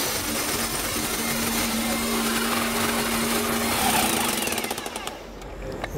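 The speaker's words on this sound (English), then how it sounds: "apply both rotation and hammer for 30 seconds to set the anchor" Rotary hammer drill running in rotation-and-hammer mode to set an undercut anchor with a setting tool, a loud continuous rattling hammer drone with a steady whine that winds down and stops near the end.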